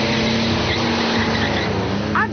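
A powerful engine in a Santa Matilde, a Brazilian fiberglass sports car, roars steadily and loudly at close range with a sustained drone, ending in a brief tire squeal.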